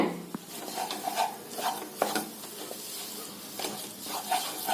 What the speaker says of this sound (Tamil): அரை டம்ளர் தேங்காய் வருங்க அதை இதோட சேர்த்திருங்க சேர்த்திட்டு ஒரு கலக்கு கலக்கி விட்டுருங்க